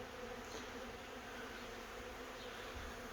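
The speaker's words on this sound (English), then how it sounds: "So the bees are in the bee unit." A honey bee swarm moving into a bee house fills the air with a continuous, dense buzzing drone, faint and steady with no voices present.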